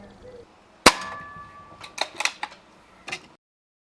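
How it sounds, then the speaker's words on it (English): Slavia (CZ) 618 air rifle fired once with 8.4 grain Air Arms Diablo field pellets over a chronograph, a single sharp, close crack followed by a few faint metallic clicks and handling noises before silence. "I'm now going to test the power by putting 10 shots over my chronograph"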